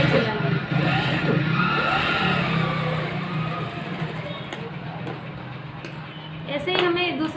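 A sewing machine stitches a belt onto a blouse, its motor a steady, close, continuous whir that runs throughout with slight rises and falls in intensity.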